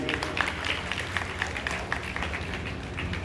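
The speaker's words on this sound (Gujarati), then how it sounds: "આપણે સૌ એને તાળીઓથી વધાવીએ" An audience at a Gujarati community programme in Mota Varachha, Surat, giving a short burst of applause, many hands clapping in a dense, moderately distant patter.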